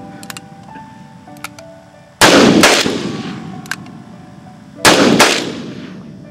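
Two loud gunshots fired outdoors a few seconds apart, each a sharp blast with a long echoing decay, over faint background sounds with some electronic beeps.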